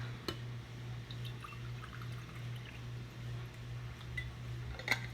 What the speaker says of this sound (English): So I'm gonna put some water in my cup here.